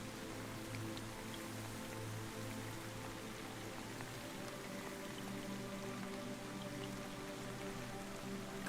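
Steady rain falls continuously with a soft, even hiss of drops and no voices, holding the same level throughout and ending with a faint bump.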